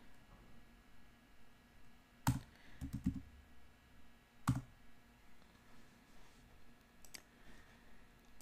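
A computer mouse gives a few sharp close clicks, one single, then a quick cluster, then another single, over a quiet room hum.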